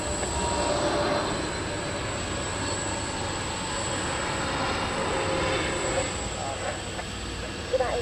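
A FedEx Boeing 777F jet takes off at Taoyuan International Airport in Taiwan, a steady, broad engine roar heard from a distance with a constant high whine running through it, as radio talk plays over it.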